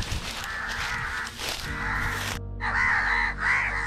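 Crows caw at Suvarndurg fort, a sea fort thick with ber trees, giving a series of harsh, raspy calls, loud and close, over a steady background wash.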